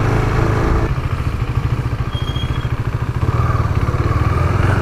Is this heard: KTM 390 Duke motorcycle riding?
yes